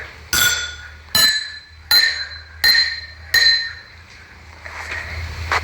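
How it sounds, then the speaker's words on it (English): Five bright, ringing clinks of glasses holding different amounts of water being struck, evenly spaced about a second apart, each tone lingering briefly before fading; no talking. "the glass with the least amount of water makes a higher sound"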